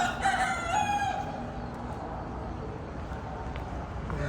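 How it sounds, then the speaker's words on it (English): A rooster crows loudly near the start, then chickens cluck softly against a faint outdoor background. "And I got some chickens here."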